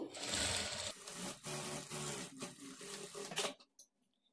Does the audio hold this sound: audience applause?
no